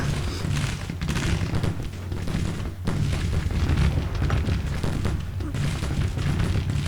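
Artillery fire in the Civil War strategy game Grand Tactician: Civil War, with heavy booms rolling one into another as a dense, continuous barrage and a brief sharp break partway through.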